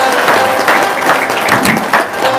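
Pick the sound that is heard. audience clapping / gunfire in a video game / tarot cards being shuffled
audience clapping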